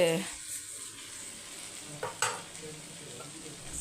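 Chicken frying in oil in a pan, a soft steady sizzle with a couple of brief stirring scrapes, fairly quiet and close.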